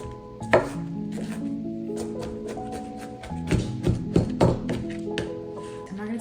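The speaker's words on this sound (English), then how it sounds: "I'm just gonna chop them until they're super small as they can get" A knife chopping strawberries finely on a board, rapid uneven thuds that start sparse and quicken into a dense burst, heard close up under a steady low background hum.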